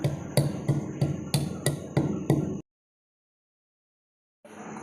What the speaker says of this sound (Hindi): सबसे पहले हम डालेंगे कुंडी में ये इसको हम अच्छे से पहले कूटेंगे।